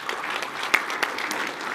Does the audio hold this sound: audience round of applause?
yes